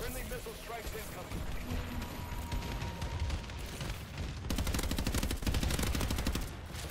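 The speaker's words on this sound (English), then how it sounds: "Friendly missile strikes incoming." Rapid gunfire and missile strikes in Call of Duty: Advanced Warfare, a dense crackling barrage that thickens into heavy sustained bursts, with a voice talking through the battle.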